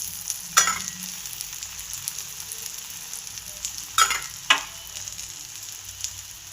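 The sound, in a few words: dhapate flatbread frying with oil on a pan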